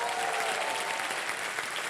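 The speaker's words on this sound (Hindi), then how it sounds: "जोरदार तालियां उनके लिए" Steady, enthusiastic applause from a sizable studio audience on the game show Wheel of Fortune fills the whole stretch, dense and continuous without a break.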